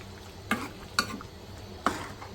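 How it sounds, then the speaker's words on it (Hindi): A spoon scrapes and clinks three times while stirring tomatoes into a potato and eggplant curry frying in a pan, with a soft steady sizzle underneath. "टमाटर डालने के बाद मैं इसको मिक्स कर दूँगी।"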